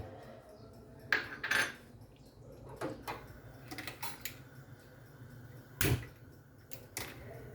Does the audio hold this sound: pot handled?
yes